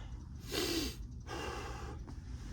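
A person takes a deep breath while tending a smoldering bow drill tinder bundle outdoors, one long close inhale followed by a slower exhale, breathy and soft over steady background hiss.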